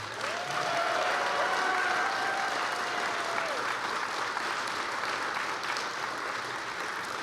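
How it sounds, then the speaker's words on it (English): Audience at a Star Citizen tech and tools conference session breaks into loud, dense applause that carries steadily for several seconds, with a faint tone sweeping over the clapping early on. "Please give a round of applause"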